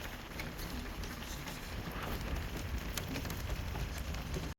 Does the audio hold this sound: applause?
no